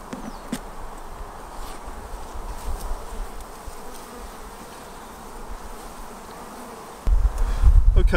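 Honey bees buzz steadily around opened hive frames, a dense close drone with a few louder bees passing near and a brief bump of handling noise at the end.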